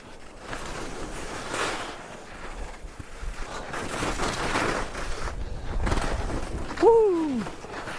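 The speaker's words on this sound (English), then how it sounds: "windy" Wind gusts across a deep-snow mountain slope during an incoming snowstorm, a steady broadband roar buffeting close to the microphone throughout, with a brief tonal squeal near the end.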